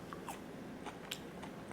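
Crispy Cajun-style air fryer fries being bitten, a few quick soft crunches spaced across a short, quiet stretch with no talk.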